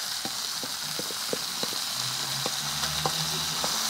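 Onions sizzle in a hot pan, a steady close hiss of frying with scattered small pops and stirring clicks throughout.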